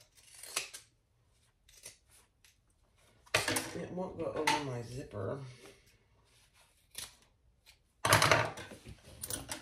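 Pinking shears cutting fabric for a tote bag, several crisp snips in short bursts close up, with a person speaking briefly between cuts.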